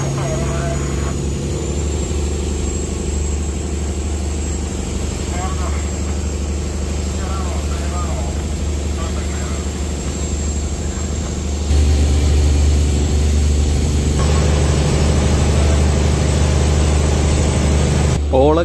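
A fishing boat's engine drives the vessel forward at speed through the waves, a loud, steady engine drone with rushing water noise that grows heavier and louder partway through, continuous with no voices.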